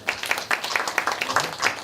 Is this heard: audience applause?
yes